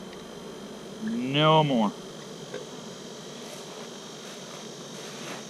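Honey bees buzz around a hive in intense heat, a steady soft insect drone with one nearer bee rising and falling; a voice speaks briefly.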